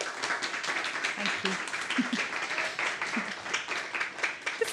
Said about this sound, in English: Let's give a big round of applause of welcome.